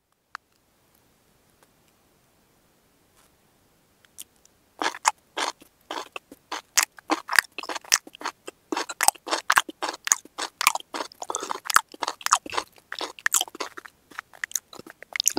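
Boti fry is eaten close up: after a few quiet seconds, crisp bites and wet crunchy chewing begin, coming fast and irregular and continuing without a break.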